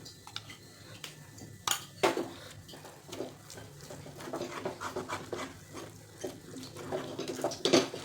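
Moong dal halwa with ghee being stirred in a pan over medium-low flame, giving scattered scrapes and sharp clinks of a spoon against metal at uneven intervals, fairly quiet and close, with no talking.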